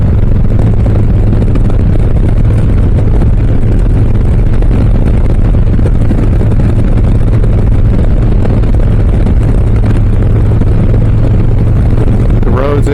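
A Harley-Davidson Low Rider S motorcycle rolls along an open road toward Olympia, its engine holding a steady, loud drone under constant wind rush with no breaks or gear changes.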